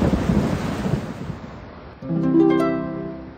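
Rain and a thunder rumble sound in the Curious George Brings Spring game, with a soft rushing wash followed by a brighter tonal swell, loud and free of speech.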